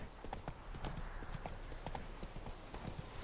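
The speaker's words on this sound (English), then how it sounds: "Whoa there, Roach." Roach the horse galloping in The Witcher 3, a fast, even clip-clop of hooves on hard ground, close and continuous with no other sounds.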